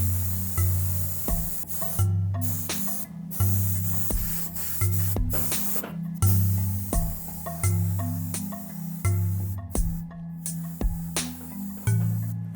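Thin coats of spray paint going onto a figure: short, fairly quiet hissing bursts repeat at a loose rhythm over a steady low hum.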